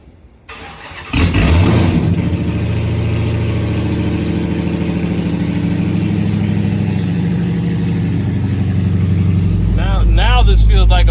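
A Dodge Hellcat with its cat-back exhaust removed cranks and fires up loudly, settling into a rough, deep, steady idle close by, with a brief rev near the end.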